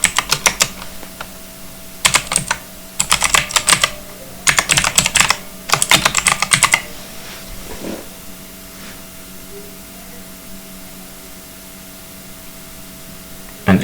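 Typing on a computer keyboard while writing CSS code: close, crisp key clatter in several quick bursts separated by quiet pauses, with a soft steady background hum and no talking.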